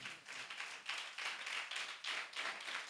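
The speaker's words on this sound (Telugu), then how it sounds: "చప్పట్లు కొడదాం ఒకసారి." A church congregation claps together at a Sunday service, making steady rhythmic bursts of many hands that continue through the clip, soft and somewhat distant.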